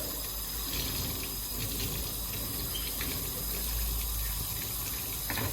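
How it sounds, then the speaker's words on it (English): A microfiber cloth is rinsed and squeezed in a bucket of water, giving continuous splashing and running water with small bursts of dripping throughout. "double it over, squeeze. Rinse it, fold it over, squeeze. Keep doing this until the water runs clear."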